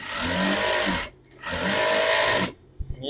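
An overlock serger with its feed dogs set too high runs without feeding the fabric. It makes two loud, steady mechanical whirring bursts, each about a second long, with a brief near-silent pause between them and a few soft knocks at the end.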